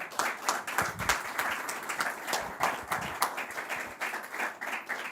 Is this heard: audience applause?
yes